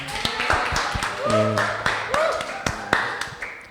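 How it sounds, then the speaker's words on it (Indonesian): A group claps together at a talk on talents, with a few sharp, uneven handclaps standing out over voices and chatter that continue throughout. "Tepuk tangan buat kita semua."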